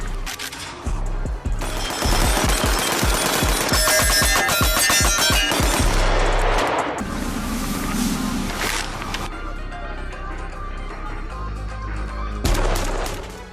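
Rapid automatic gunfire from a Russian AK-12 assault rifle, loud and close, with dense bursts of shots in the first half, then rumbling echoes and further intermittent firing.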